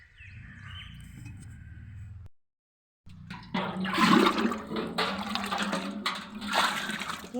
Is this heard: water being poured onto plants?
yes